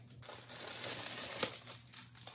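Packaging holding a book is crinkled and pulled open up close, with rustling and crackling throughout and one sharp snap.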